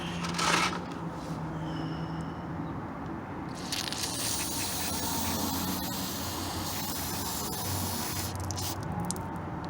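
A steady, broad aerosol cleaner spray hiss into a BMW VANOS solenoid runs nearly throughout, close by, with a brief louder burst near the start and some rattling handling noise.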